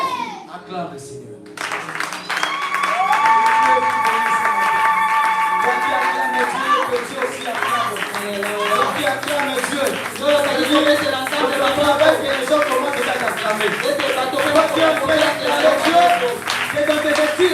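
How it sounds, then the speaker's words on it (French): A church congregation clapping and cheering in praise of the Lord, a sustained crowd roar of applause and voices while sustained music tones ring over it throughout. "Acclame le Seigneur."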